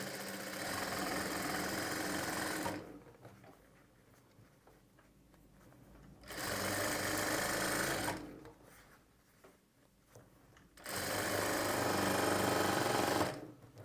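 An electric sewing machine stitches cloth piping in three loud, close bursts of rapid mechanical whirring. Between the runs come quieter pauses with faint rustling.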